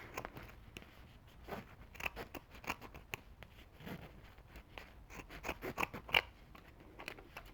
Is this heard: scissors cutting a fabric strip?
yes